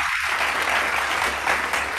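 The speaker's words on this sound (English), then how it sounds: "let's give a round applause to Regine" Steady applause from an audience at a green logistics plenary session, a dense, even wash of clapping with no voices over it.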